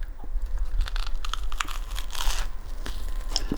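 A buttered keto English muffin is bitten and chewed close up, giving a crisp, crackly crunch with several crinkly bursts over a few seconds and no talking.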